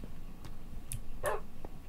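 A Minecraft dog gives a couple of short, sharp barks, moderately close and alone, with faint low background noise.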